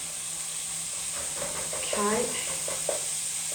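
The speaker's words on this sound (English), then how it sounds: "So we're going to get this nicely frying up with all the spices." Lean keema mince fries with spices in a pan, a steady close hiss and sizzle running throughout while a person speaks briefly over it.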